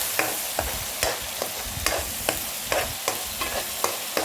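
Onion and green chili are sautéed in hot oil for pepper chicken masala, a soft steady sizzle broken by a run of sharp spatula scrapes against the pan at a brisk, uneven rhythm, close and with no voices.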